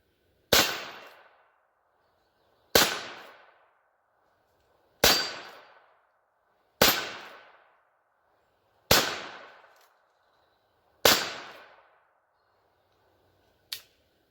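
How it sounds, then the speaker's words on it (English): A Heritage Barkeep .22 LR single-action revolver firing at steel targets: six sharp shots about two seconds apart, each followed by a brief metallic ring, then a softer seventh clank near the end. No one speaks. "Let's take a few shots on steel and see how it does."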